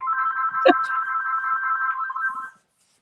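A telephone ringtone plays alone for about two and a half seconds, a steady electronic warble with a brief click partway through, then cuts off into silence.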